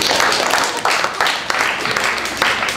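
A comedy club audience claps and applauds in a dense, steady wash of hand claps, loud and close, with no talk over it.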